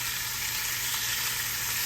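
A steak sizzles on the grill, a steady, dense, loud hiss of fat and searing that runs unbroken throughout, with no talking.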